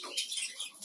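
Colorful budgerigars in a breeding colony, a quick burst of bright, high chirps and twitters from several birds close by, lasting under a second.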